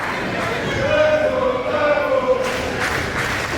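A wrestling crowd at an independent show cheers and chatters in a loose, rolling swell, with an announcer's voice talking over the noise throughout.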